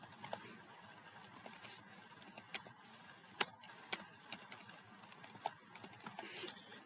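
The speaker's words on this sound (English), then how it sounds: "I'm typing my own password." Fingers type a password on a computer keyboard, producing quiet, close, irregular key clicks and taps in small bursts over a faint room background.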